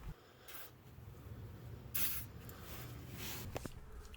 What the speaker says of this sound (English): Spraying WD-40 on the hanger before trying to remove it will make it a lot easier to remove.